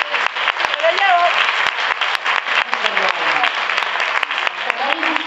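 An audience at a talk applauds vigorously, thick continuous clapping from a full room with a few voices just audible underneath.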